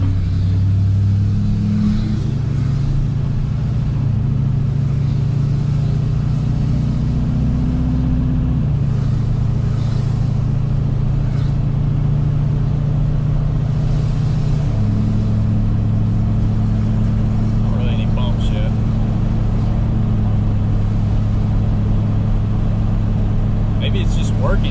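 A pickup truck fitted with Bilstein 5100 shocks drives along a road with a steady, loud engine rumble that shifts pitch as it changes gear, with faint road noise and no talking.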